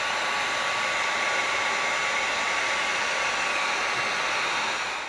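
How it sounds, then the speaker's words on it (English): A heat gun blasts a steady, loud, hissing airflow while heat sealing EVA foam for a gel gun prop, running continuously without pause. "we're gonna heat seal this"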